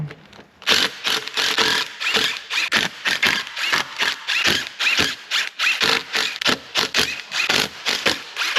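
Ratchet loosening T30 bolts on an Audi A5 2.0 TFSI engine, a rapid, continuous run of close, sharp clicking strokes with brief pauses, loud and with no talking.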